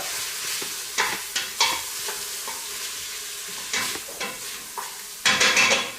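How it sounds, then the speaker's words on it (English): Butter and garlic sizzle in a frying pan as a spoon scrapes and stirs in irregular strokes, a close, busy frying hiss for venison liver pâté with no voices. "We'll give that a mix around and we'll combine that with the butter."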